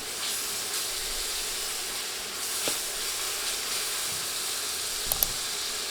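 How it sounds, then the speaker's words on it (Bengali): Garlic paste fries in a hot pan with a steady, hissing sizzle that runs throughout, marked by a couple of faint clinks near the end and no voices. "রসুন বাটা দিয়ে কয়েক সেকেন্ড ভেজে নিচ্ছি"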